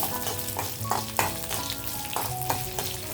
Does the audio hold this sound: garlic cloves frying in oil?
yes